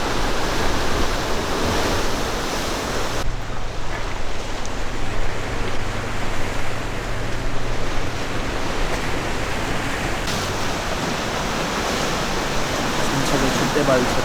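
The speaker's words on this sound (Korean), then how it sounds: "큰 바위에 부서지는 파도가 너무나 시원하게 보입니다" Sea waves breaking on large pointed rocks along a coastal walking path by the East Sea at Yeongdeok: a continuous loud roar of surf with a steady wash of spray.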